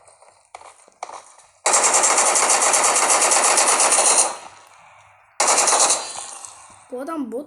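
Video game gunfire, two long bursts of loud rapid automatic shooting close up, separated by a pause, with a few softer single shots before them and a brief voice at the very end.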